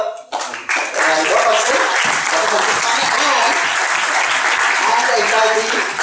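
Sustained audience applause in a college hall during a communication skills session, loud continuous clapping after a short start, with voices faintly underneath.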